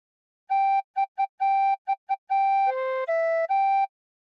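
A tin whistle plays a phrase of What Shall We Do With the Drunken Sailor, clear soft-blown notes in a rhythmic run of short and long tones on one pitch, then two lower notes and a return, alone and close.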